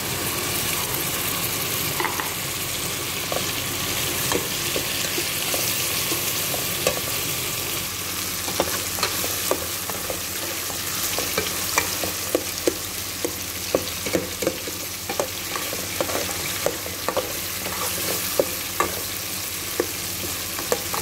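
Onion browning in a frying pan while white fish is being cooked, a steady close sizzle with frequent stirring clicks and scrapes throughout, no talk.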